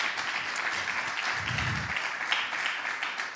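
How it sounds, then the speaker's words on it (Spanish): A church congregation claps together in a brief, fairly soft burst of applause from around the room. "Acompañe esa gratitud con un aplauso."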